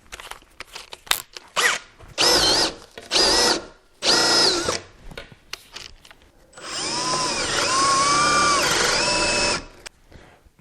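A power drill bores holes in ash wood stair treads, several short loud whirring bursts followed by one longer sustained drilling run, with small clatters between.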